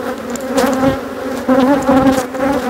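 Close, dense buzzing of honeybees swarming around hive frames on the Mediterranean coast, a continuous drone that swells in loudness and wavers in pitch.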